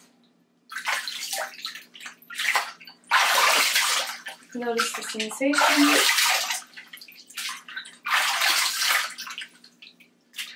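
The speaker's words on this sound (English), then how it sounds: "Notice the sounds of the water." Bathwater sloshes and pours in repeated bursts as skin and a rinsed-off product are washed clean in a bath, close and fairly loud, with a calm voice speaking softly between the splashes.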